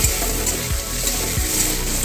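Onion and tomato fry in a pan with a steady, crackling sizzle, broken by regular soft knocks as the mixture is stirred.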